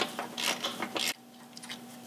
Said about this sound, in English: I'm going to get Torx and take this part off